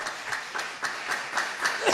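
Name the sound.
loud applause from church congregation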